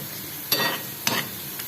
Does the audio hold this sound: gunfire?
no